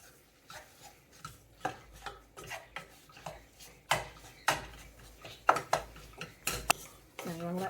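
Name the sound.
stirring flour into bubbling gravy in a pot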